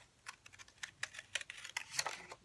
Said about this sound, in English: So you need scissors.